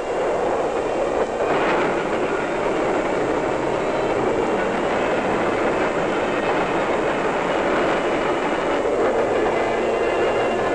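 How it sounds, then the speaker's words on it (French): A train passes on the track beside a cycling path, a loud, steady rumble with rail clatter filling the whole stretch without letting up. "Un train arrive à leur hauteur."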